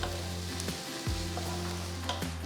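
Sliced shallots fry in hot oil, a dense steady sizzle with a brief stirring scrape, heard close and alone without speech.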